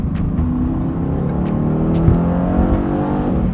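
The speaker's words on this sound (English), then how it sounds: "That V8 sounds incredible." A loud, deep Mercedes-AMG GT C V8 engine roars steadily from close by, holding a throaty drone with a slight rise in pitch midway and no talking over it.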